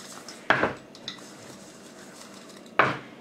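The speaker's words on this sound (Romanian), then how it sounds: "Scuturăm cratița bine" A saucepan layered with apricots and sugar is shaken, giving two sharp metallic clatters of the pan with a light rattle between them, close and otherwise quiet.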